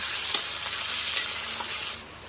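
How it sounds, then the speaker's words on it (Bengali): Crushed garlic and onion fry together in a pan for mutton curry, giving a steady close hiss of sizzling with a few brief stirring scrapes, then dropping off near the end. "রসুন আর পেঁয়াজ একসাথে করে একটু ভেজে নেব"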